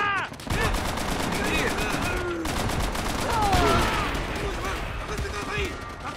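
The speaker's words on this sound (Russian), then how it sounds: "Вражеский пулемет!" Rapid bursts of enemy machine gun fire rattle continuously alongside explosions and effects in Call of Duty: World at War, with voices shouting over the gunfire.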